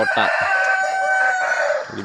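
Brown laying hens kept as breeding stock cluck inside a poultry coop while a rooster crows loudly and close, the sounds overlapping in a short, dense burst.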